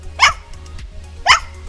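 A trained dog gives two sharp, close barks about a second apart on a speak command during an animal-handling demonstration, with quiet gaps around them.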